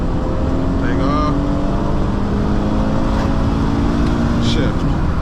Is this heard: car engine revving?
yes